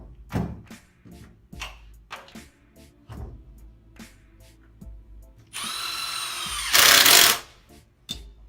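A power drill drives screws into water pipe connections while a water heater is being replaced: scattered knocks and thumps, then a loud, steady whirring run of about two seconds that ends in a brief, harsher high-speed burst.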